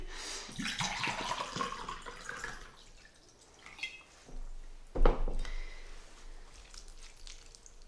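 Water poured from a cup over newly planted herbs in a herb garden, heard as splashing and dripping with a few clinks. The loudest splash comes about midway.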